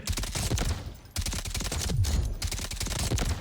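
Rapid automatic fire from an MK47 rifle in the Delta Force video game comes in two long, loud close bursts separated by a brief pause, with shell and mechanical clatter layered through.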